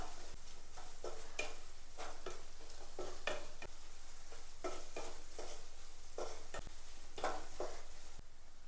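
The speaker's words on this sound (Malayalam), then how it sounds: "എല്ലാം കൂടെ ചേർത്തൊന്ന് മിക്സ് ചെയ്യണം." A spoon stirs chilli, coriander, garam masala, cumin and turmeric powders in a pan over heat, producing repeated soft scraping strokes over a quiet background sizzle.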